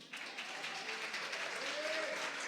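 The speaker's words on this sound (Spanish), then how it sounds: "¿Le damos un fuerte aplauso al Señor?" Church congregation giving a strong round of applause during a worship service, an even, moderately distant wash of many hands clapping with faint voices mixed in.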